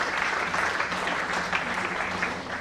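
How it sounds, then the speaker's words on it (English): An audience applauds for Neelam Ben, a dense steady wash of many hands clapping, sustained and fairly loud throughout with no voices standing out. "I think a round of applause for Neelam Ben."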